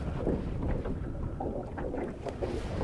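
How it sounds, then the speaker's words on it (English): Gusty wind rumbling across the microphone at a river in Manitoba's Grass River Provincial Park, a low continuous buffeting with slight swells, no talking. "it's nice and windy"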